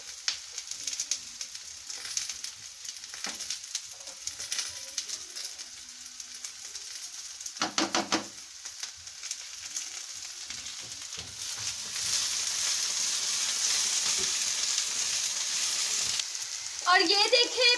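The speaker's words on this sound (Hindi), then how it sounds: "इसे अच्छे तरीके से सब चीजों को मिक्स करेंगे और सबको फ्राई कर लेंगे हल्का हल्का।" Okra, onion and ginger fry in a pan with a steady sizzle that grows louder partway through. Faint stirring scrapes and clinks are heard, and the clip ends with a brief sharp clatter.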